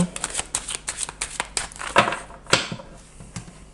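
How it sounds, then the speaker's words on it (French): Petit Lenormand cards are handled and laid out for a nine-card spread, giving a close series of soft slaps, flicks and papery shuffling sounds in an uneven rhythm. "Je vais faire un tableau en 9 cartes."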